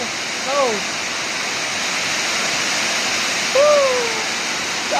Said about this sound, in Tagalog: Bumabaha na ito, ano, yung daan namin. Sobrang baha na, oh.